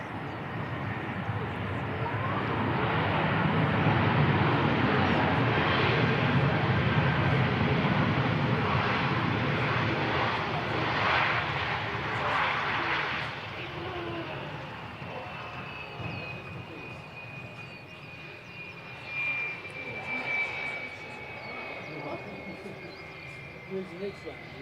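An aircraft takes off at Christchurch airport in New Zealand, a broad distant engine roar that swells and then slowly fades, heard under people talking nearby.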